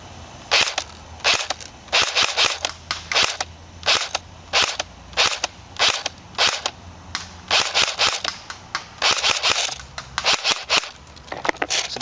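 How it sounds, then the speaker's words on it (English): A G&G GR25 airsoft rifle fires repeatedly at a target 95 feet away, producing a long series of sharp, snappy shots in quick irregular clusters, loud and close, with no talking. "this is going to be basically me emptying around on the farthest one that's 95 feet away"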